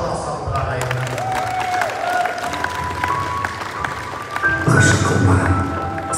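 Wedding guests clap for the groom in a banquet hall, a broad wash of crowd applause over music that swells louder toward the end, with voices talking over it.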